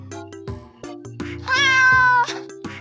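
A cartoon cat gives a couple of short meows and then one longer, drawn-out meow over a bouncy children's music backing, fairly close and clear.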